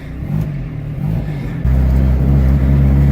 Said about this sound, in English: every time it like sputters, the check engine light flickers with it.